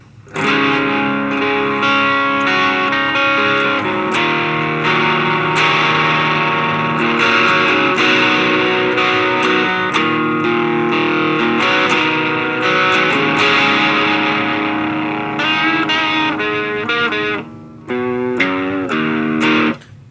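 Distorted electric guitar through an all-tube amp plays loud, continuous chords and riffs with a thick, saturated amp tone, a brief pause near the end.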